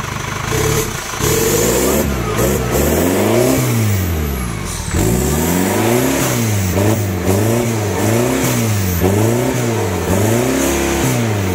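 A Chevrolet Captiva engine, exhaust fitted only to the downpipe, revs hard in repeated bursts, rising and falling in pitch, loud and close with a steady roar between pushes of the throttle.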